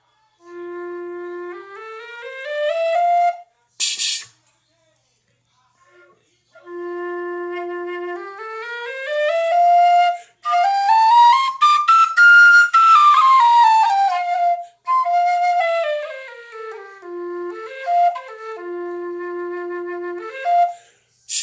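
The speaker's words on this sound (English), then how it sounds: "This was his kind of first generation experimental whistle." A narrow-bore first-generation experimental tin whistle plays a slow melody close up, with notes sliding between pitches, in clear phrases separated by short pauses.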